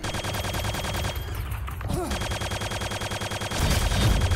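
Heavy machine gun fire in a Quake duel: a rapid, steady mechanical rattle runs loud and unbroken through the whole stretch, swelling slightly near the end.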